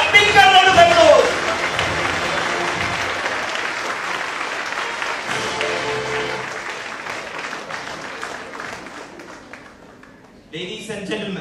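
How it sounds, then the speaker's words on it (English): Audience applause at a school stage event fills the room, loud at first and then a steady, gradually fading round of clapping, with voices and music mixed in and a brief break near the end. "Music and a big round of applause."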